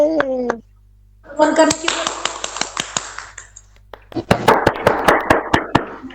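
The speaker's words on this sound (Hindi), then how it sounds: "एक बार जोरदार तालियां बजा दीजिए" At a birthday celebration, a voice speaks briefly, then a small group claps in a short burst. After a pause, several sharp, distinct hand claps follow, close and loud, with children's voices mixed in.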